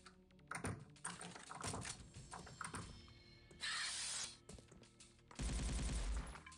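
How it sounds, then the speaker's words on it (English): Shotgun blasts in a retro first-person shooter, several sharp reports mixed with clicking keyboard-like taps, a couple of louder sustained bursts of noise near the end. "Shotgun."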